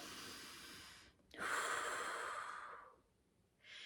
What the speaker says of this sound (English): we wanna really center ourselves with some deep, deep breathing